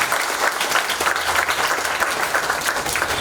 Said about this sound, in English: Give yourself a bigger round of applause.